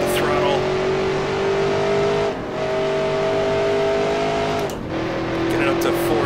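Race car engine in a 1966 NASCAR Grand National simulation holds a steady loud drone at the S-curves, dipping twice briefly as gears shift, then pulling on again under throttle.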